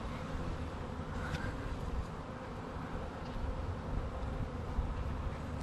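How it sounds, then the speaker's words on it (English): A dense, steady drone of many honeybees buzzing around an open hive in an Alaskan summer yard, continuous and close with no talking. "Look at all those bees."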